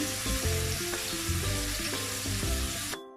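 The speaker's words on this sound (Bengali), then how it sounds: "চুলার আঁচটা মিডিয়াম করে দিয়ে ভেজে নিব।" Shrimp frying in a pan over medium heat, a steady close sizzle with periodic scraping and stirring strokes that stops abruptly near the end.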